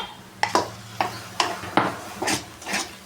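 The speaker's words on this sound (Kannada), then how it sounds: "ಇದನ್ನು ಇವಾಗ ಒಂದು ಎರಡು ನಿಮಿಷ ಈ ರೀತಿ ಫ್ರೈ ಮಾಡ್ಕೊಳ್ಳೋಣ" Coconut mustard paste frying in a pan as a spatula stirs it, a series of short scraping strokes against the pan at a steady, unhurried rhythm, close and moderately loud.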